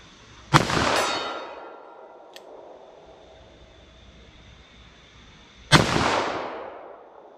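Two sharp, loud gunshots from a 4-inch revolver firing .44 Magnum rounds at a target, several seconds apart, each followed by a ringing echo that fades outdoors.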